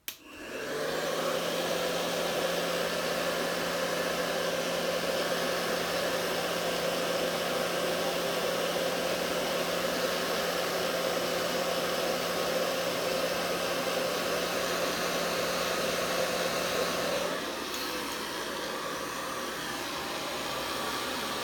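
Hair dryer running on medium to high heat to dry a mustache, a loud, steady close whoosh that starts abruptly, holds, then drops slightly in pitch and level near the end. No one speaks.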